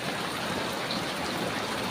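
Steady rain pours down in a village neighbourhood, a dense, even hiss of water with no breaks, moderately close and unbroken by any voice.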